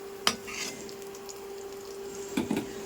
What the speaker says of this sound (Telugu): ఆ మామిడికాయ తురుము కూడా వేసుకుని బాగా వేయించేసుకోవాలి